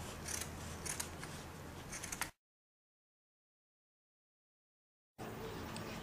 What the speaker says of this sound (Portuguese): E vou cortar.